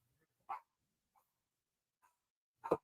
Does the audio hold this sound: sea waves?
no